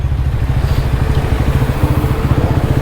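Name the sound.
motorcycles setting off on an adventure ride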